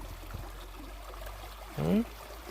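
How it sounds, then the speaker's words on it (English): Clean water oozing and trickling from the ground outdoors, at a spot chosen for building a small house. A low, steady wash of water carries a brief louder gurgle near the end. "The water is oozing."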